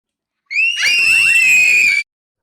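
A girl's high, piercing scream recorded as a horror-track sample rises sharply and holds steady for about a second and a half before cutting off abruptly. It is loud and close, with no other sound around it.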